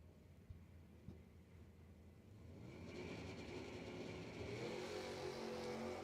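A 2000 Camaro and a '70 Nova launch in a drag race, a low rumble building into a broad, rising engine roar as the cars accelerate, distant and steady with no talk.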